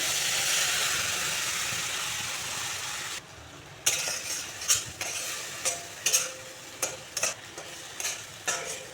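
Ash gourd seed paste frying in a pan, with a steady sizzle that drops away partway through, followed by a series of sharp scraping and stirring strikes of a utensil against the pan.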